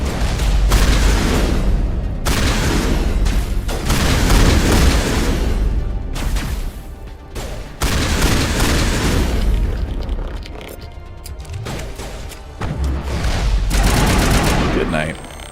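Repeated shotgun blasts in the sci-fi shooter game Mass Effect, loud heavy booms in bursts over about fifteen seconds, with a few short pauses between volleys.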